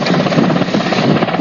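A helicopter roars loudly and steadily up close, its rotor giving a continuous rapid chopping throb with no voices.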